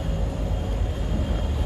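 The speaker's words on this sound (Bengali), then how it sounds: "এই ট্রেন এটা হচ্ছে অলরেডি ঘোরানো শেষ করে এখন চলে যাচ্ছে ট্রেনের ওই প্রান্তে" A train moving through Khulna railway station on the eve of Eid, heard as a steady, loud low rumble of rolling carriages with no speech over it.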